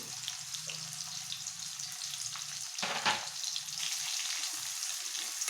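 Chopped onions fry steadily in a pan for an egg masala curry, a continuous hiss with a brief louder stir burst midway, close and with no talking.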